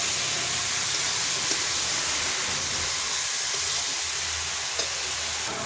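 Prawns fry in a pan with spices and tomato, giving a steady, dense sizzle and hiss throughout, close and even with no talk.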